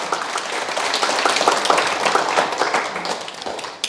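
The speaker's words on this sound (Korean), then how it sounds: "처음 오신 분께 큰 박수 부탁드립니다" A lecture-hall audience at a Sunday Buddhist Q&A talk gives first-time attendees a loud, sustained round of clapping that holds steady for several seconds before cutting off.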